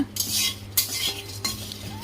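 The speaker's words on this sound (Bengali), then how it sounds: "আর আমি এদিকে পোলাওয়ের জন্য যে মশলাটা হয়, গরম মশলা, সেটা ভেজে নিচ্ছি।" Garam masala spices (nutmeg, mace, cloves, cardamom, cinnamon and bay leaf) dry roasting in a pan, with a utensil scraping and clinking against the metal in three or four brisk strokes, close and fairly loud.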